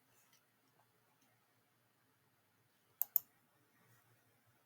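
Two quick, sharp computer mouse clicks land close together near the middle of an otherwise quiet stretch, with faint scattered ticks around them.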